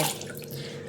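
Tap water running steadily into a pot as rice is washed in a home kitchen, a short continuous splashing wash with a faint drip at the start.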